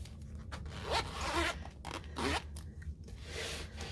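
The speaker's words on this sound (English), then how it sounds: "Let me zipper this up" Close zipper pulled along a cash envelope pouch in a few quick strokes, rasping bursts separated by short pauses, alone in a quiet room.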